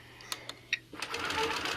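A sewing machine stitches a quilt block at close range, starting with a few scattered ticks and clicks before settling into a steady, continuous whir.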